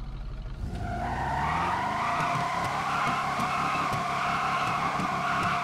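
Car tires spin and squeal in a video game, a sustained loud screech rising over a rumbling engine and holding steady to the end.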